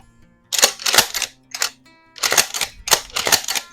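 A Remington 870 pump-action shotgun with a synthetic stock is being cleared, giving a series of sharp metallic clacks and slides in two quick bursts, close and loud, with no talking.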